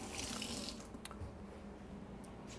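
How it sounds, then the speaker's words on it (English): Tap water runs steadily into a sink as hands are washed under it, a soft continuous splashing with small bursts of louder spatter, close by and with no talking. "I'm gonna wash my hand again."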